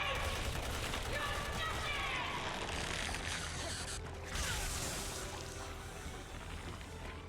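Gunfire from the game Resident Evil 6 rattles in a continuous dense burst of shots over a busy game soundscape, with a brief break and then a softer stretch of rapid firing; a voice talks faintly beneath.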